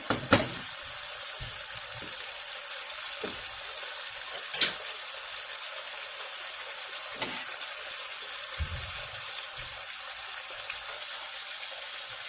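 Chicken legs frying in a pan, giving a steady, moderately loud sizzle throughout with a few sharper pops and crackles, with no voices.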